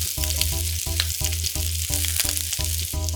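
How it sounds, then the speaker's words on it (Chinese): Peeled shrimp searing in hot oil in a pan, their undersides turning golden, with a loud, steady sizzle and crackle running throughout, close and unbroken. "底部有一点变焦黄呢，就可以开始给虾仁翻面了"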